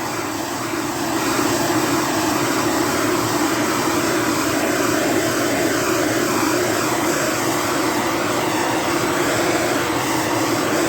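A heat gun blowing hot air to shrink heat-shrink material, a loud continuous roaring whoosh that holds steady from start to finish, close and alone.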